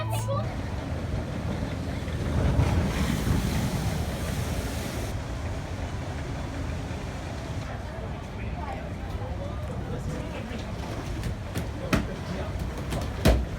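Log flume ride at Parc Asterix in France surging through water, with a steady rush of splashing and wind noise and a heavier wash early on, while indistinct voices mix into the roar.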